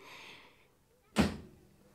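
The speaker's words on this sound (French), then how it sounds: "tu viens d'ouvrir et de fermer la porte du frigo." A single dull thud of a fridge door shutting, sharp and close, after a faint hum and near silence.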